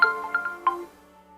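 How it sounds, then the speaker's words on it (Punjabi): A short electronic mobile phone ringtone melody of bright tonal beeps plays alone, then fades to quiet. "ਮੰਮੀ ਜੀ ਦਾ ਫੋਨ ਆ ਵੀ ਗਿਆ"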